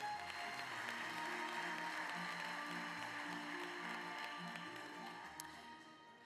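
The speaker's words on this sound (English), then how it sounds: "please give another big round of applause for everyone who's with us here today" Conference hall audience applause, a dense, steady wash of clapping from a large crowd, faint and distant throughout, easing slightly at the close, with a low hum underneath.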